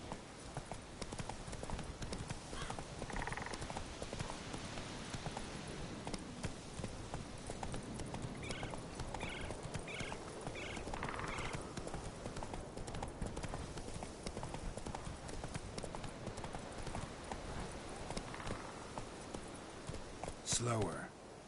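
Roach, a horse in a video game, walking with steady clip-clop hoofbeats at close range, an occasional snort or whinny, and someone talking over the rhythm.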